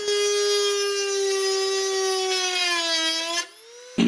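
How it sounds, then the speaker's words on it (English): Dremel rotary tool marking thin sheet metal on a 1976 Mazda RX air suspension bracket, a loud high-pitched whine held steady close up, its pitch dipping as it bites, then stopping briefly before spinning again. "So I'm hoping I can create a mark with the Dremel that I can see on the other side, and I can drill it from the back."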